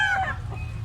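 Gamefowl bullstag rooster at a Cebu morning market, a brief close clucking call with nasal, slightly crowing tone fading over under a second amid low background murmur.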